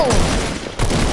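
Rapid gunfire from Fortnite rattles out in a loud, dense burst of shots that stay close and harsh and fill a short moment.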